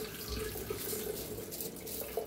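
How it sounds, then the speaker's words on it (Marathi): Washed rice water drains through a metal sieve in a kitchen, a soft continuous trickle and splash with a few brief drips, fairly quiet and without any voices. "आता ह्याचं पाणी सगळं वतून घेऊया एका चाळणीवर"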